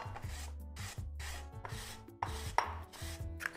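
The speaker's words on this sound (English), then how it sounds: "We need half a tablespoon of lemon zest." A lemon is being zested for lemon cheesecake cookies, giving a close, quiet run of rhythmic rasping strokes, about seven or eight short scrapes with brief pauses between them and no talking.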